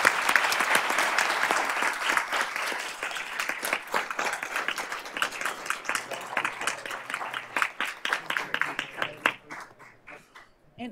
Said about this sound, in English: Let's give Autumn another round of applause.